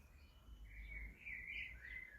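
Small birds chirp and twitter faintly in a June allotment with blossoming shrubs, a thin, wavering call repeating over low outdoor background noise.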